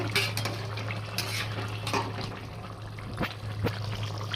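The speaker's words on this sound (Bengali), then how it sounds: "ঢাকনাটা খুলে নেব।" Metal lid lifted off a pot of rohu fish curry with potato and cauliflower, giving clattering clinks and scrapes over a steady hum and bubbling simmer.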